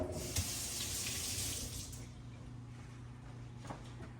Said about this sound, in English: now I've got to wash my finger off